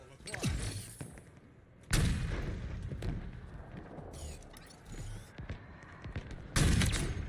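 Sniper rifle shots in Halo Infinite Big Team Battle, several sharp loud cracks spaced a few seconds apart amid game noise, with a voice talking over parts of it.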